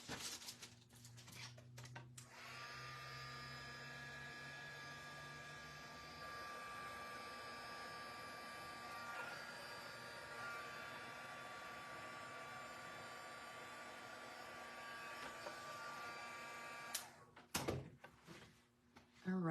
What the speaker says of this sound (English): I'm going to go heat it up with my heat gun that's just kind of off camera